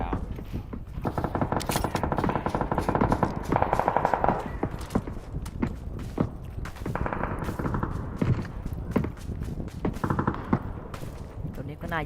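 Loud PUBG gunfire rattles in rapid automatic bursts and single shots through the whole stretch, with players talking excitedly over it.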